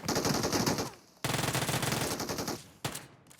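Uzi fire in the mobile game PUBG Mobile: rapid automatic bursts, one long burst, a second sustained burst, then a short final burst, loud and close with no talk over it.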